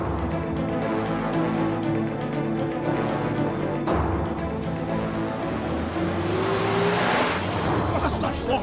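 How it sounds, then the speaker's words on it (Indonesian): A car drives nearby with a steady engine rumble and road noise that builds toward a louder pass near the end, with people talking over it. "Itu mobil Pak Suta kan?"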